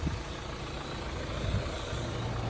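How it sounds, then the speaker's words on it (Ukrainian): A black 2011 Opel Astra J with a 2.0 diesel engine (Z20R) and automatic gearbox idles nearby, a faint, steady low rumble with no revving. "Заїжджає чергова Astra J в розбір, це у нас 2 літра дизель автомат"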